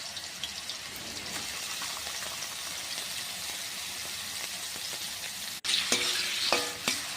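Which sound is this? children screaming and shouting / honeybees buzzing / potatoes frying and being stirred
potatoes frying and being stirred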